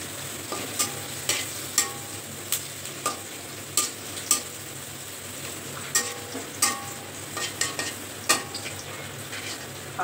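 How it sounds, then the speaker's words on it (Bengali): Onion and garlic lightly frying in a pan, a steady soft sizzle broken by regular stirring scrapes and clinks roughly every second, close up with no voices. "পেঁয়াজ আর রসুনটা দিয়ে দেব"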